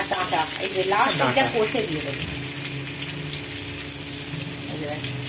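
Bay leaf drops into hot oil for tempering while making shukto, a steady close sizzle that runs throughout, with a voice speaking over the first couple of seconds.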